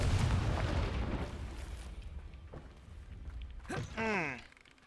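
A Confringo fire spell goes off in Hogwarts Legacy, a heavy booming explosion that decays away, followed by a short crackling burst and a rising magical whoosh.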